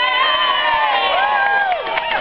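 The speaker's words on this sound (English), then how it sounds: "This is a wonderful crowd today." A large crowd at an outdoor demonstration against wind turbines cheers and whoops loudly and continuously, with many voices shouting together and scattered high calls rising above the roar.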